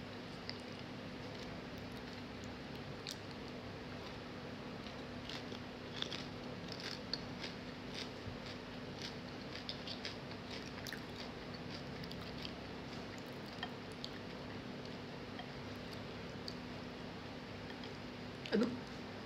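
Someone chews a crunchy homemade snack close by, with a quiet, steady run of sharp little crackling crunches and one louder rustle near the end.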